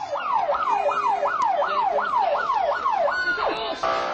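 An ambulance siren wails in a fast, regular rising-and-falling cycle, about eight sweeps loud and clear over faint street noise before shifting to a different tone at the end.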